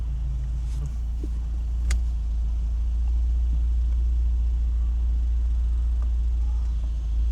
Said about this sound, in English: I'm gonna do a few laps over here on this parking lot just to get used to the car.